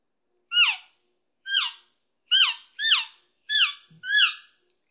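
A hunter imitates an elk calf on a call, giving six short, high, squeaky mews that slide downward, spaced fairly evenly with a quick double in the middle, close and clear with no speech.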